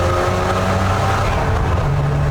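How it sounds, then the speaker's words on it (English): A rotary-engined car revs up close and loud, its pitch rising and falling in a short burst. "So this is the last great rotary engine."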